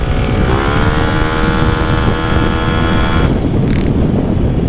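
A Yamaha Aerox 195cc scooter with a +4 crank revs loud and close, its engine pitch climbing steadily then dropping off near the end, with wind noise over the microphone.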